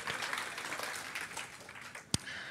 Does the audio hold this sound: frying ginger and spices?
no